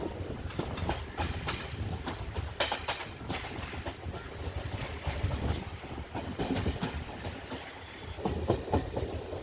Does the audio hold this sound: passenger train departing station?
yes